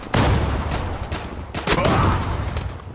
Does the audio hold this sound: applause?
no